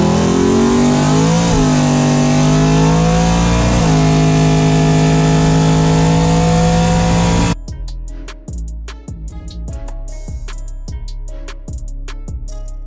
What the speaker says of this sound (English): I figured I'd take my new project car out and let's burn some tires on this occasion